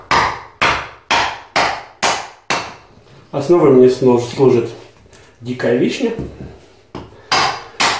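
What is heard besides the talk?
small hammer striking a wooden block to split it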